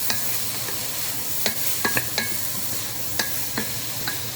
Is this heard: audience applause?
no